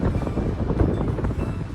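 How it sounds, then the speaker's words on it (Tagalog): Strong wind buffets the microphone outdoors in downtown Banff, Alberta, near the Rocky Mountains, a loud, close, rumbling low roar that fluctuates in brief gusts, with no speech. "ang lakas ng hangin"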